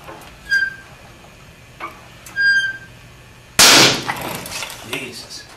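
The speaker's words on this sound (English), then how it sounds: "the beam finally broke" A sharp, loud crack like a gunshot as a wooden beam snaps under about 2,000 pounds of load during a bending test, followed by a brief rattle of debris. Faint creaks come before it in a quiet room.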